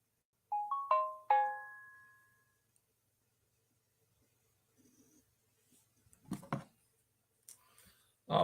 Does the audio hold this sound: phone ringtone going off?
yes